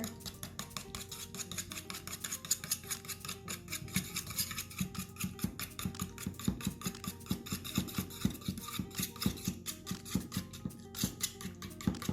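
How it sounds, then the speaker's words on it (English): A whisk beats wet pancake batter ingredients together in a bowl, giving a quick, steady run of close clicking and tapping against the bowl sides, with no voices. "And you're just going to whisk that all together."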